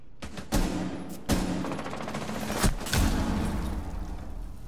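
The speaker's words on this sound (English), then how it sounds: "This dude just shot him in the head." Gunfire in the tactical shooter Rainbow Six Siege, with several sharp, loud shots in an uneven burst and a dense background of game noise.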